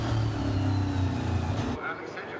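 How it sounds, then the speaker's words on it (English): A EuroNASCAR race car at the NASCAR GP UK 2021 roars loudly from the onboard position, then cuts abruptly as the throttle is blipped on a heel-and-toe downshift, with commentary over the top. "You could hear the down change there where he's blipping the throttle"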